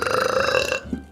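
One long, loud, croaky belch from a woman, rumbling for most of a second before it cuts off into quiet.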